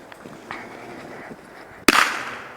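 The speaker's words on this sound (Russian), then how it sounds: "Сейчас еще петарды будем взрывать." A firecracker goes off outdoors beside a daytime campfire, a single sharp, loud bang near the end that follows faint background sounds.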